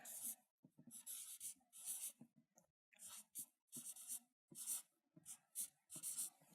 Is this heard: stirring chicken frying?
no